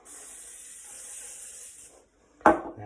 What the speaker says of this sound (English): I'll spray oil the bowl.